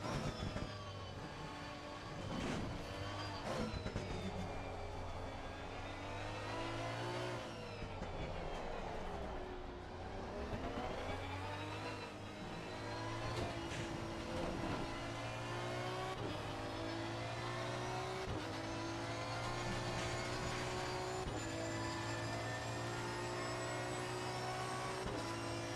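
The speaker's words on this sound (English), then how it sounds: "Hear that glorious V12." A V12 race car engine howls around Paul Ricard in a racing video game, a steady high-pitched whine rising and falling through gear changes and throttle lifts, continuous and uninterrupted with no talking.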